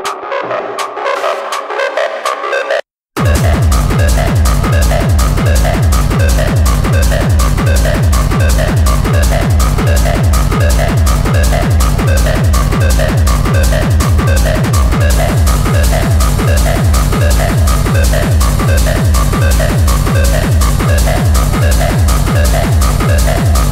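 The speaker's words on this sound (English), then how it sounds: "The music is, it sounds like this." Fast techno rave music at over 150 BPM pounds with a steady, driving kick pattern that runs loud and continuous, broken only by a brief gap near the start.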